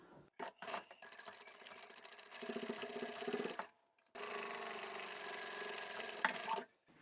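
A sewing machine triple stitches a side seam on a tapered toiletry bag in two sustained runs separated by a short gap, quiet and close, with light handling noise at the start.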